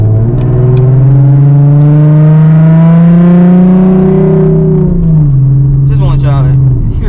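A Nissan 370Z with a Tomei exhaust revs loud and close, its deep engine note climbing steadily, holding high, then dropping back to a throaty idle, with no talking.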